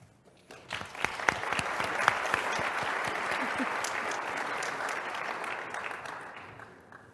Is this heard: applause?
yes